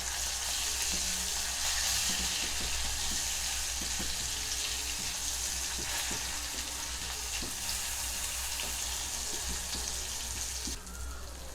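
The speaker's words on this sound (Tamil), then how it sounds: "மீன் 2 சைடுமே நல்லா ஃப்ரை ஆயிடுச்சு" Sardines frying in oil in a pan as the fish are gently turned, a steady close crackling sizzle running throughout with small clicks and scrapes of handling.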